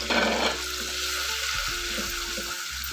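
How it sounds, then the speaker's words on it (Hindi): Coriander, chilli, salt and garam masala fry with ginger-garlic paste in a pan for egg keema, giving a steady close sizzle. Occasional stirring scrapes sound under it, and no one talks. "सारे मसालों को भी 1 मिनट के लिए भूनना है।"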